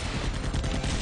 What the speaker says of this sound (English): So you just have to machine gun that guy down